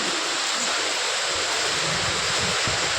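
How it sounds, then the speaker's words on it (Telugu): Steady, broadband rush of water falling onto an icy road, continuous and fairly close, with no pauses. "నీళ్ళు పడుతుంది."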